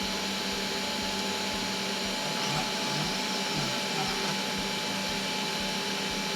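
3018 Pro Max 500W CNC router spindle cutting a clamped test piece, a steady high-pitched whine with a constant hum and faint grinding texture, continuous and close throughout.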